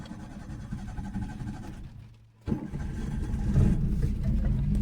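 A Maruti Alto car engine cranks after a brief hush and catches, settling into a steady running idle that grows slightly louder, heard close and without talk.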